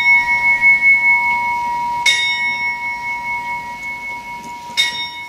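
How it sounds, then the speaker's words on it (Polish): A new bell rings on stage during a theatre performance of The Visit, two clear strikes a few seconds apart, each followed by a long steady ringing tone that slowly fades in a quiet room. "Nowy dzwon?"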